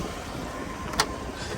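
A 1983 Mercedes 500SEC Euro coupe cruises along smoothly, its engine a steady low drone heard from inside the cabin, with one brief click partway through.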